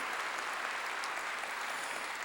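A church congregation applauds during a Korean pastor's sermon, a steady, dense wash of clapping heard throughout.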